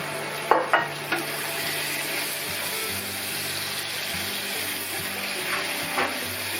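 Liver and chicken gizzards sizzle steadily in a hot pan, with a few clinks of a utensil stirring near the start and later, no talking.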